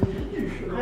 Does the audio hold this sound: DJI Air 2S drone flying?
no